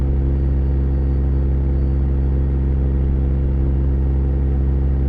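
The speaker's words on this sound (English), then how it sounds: "I'll turn down our my volume on this truck. It's really loud." A loud, steady truck engine drones close by in a video-game truck convoy, a deep continuous rumble that stays even and unbroken with no talk over it.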